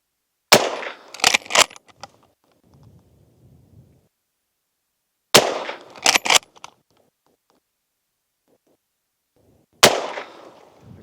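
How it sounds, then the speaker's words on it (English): A scoped rifle fires through thick brush, each loud sharp report at close range followed by a rapid run of echoes. Three shots sound at widely spaced intervals, with faint rustling and movement in between. "I'm gonna sneak a shot in here with that scope rifle"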